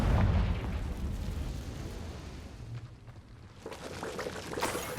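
A Confringo fire blast spell in Hogwarts Legacy erupts with a loud, rumbling burst, its roar fading out before a second crackling flare rises near the end.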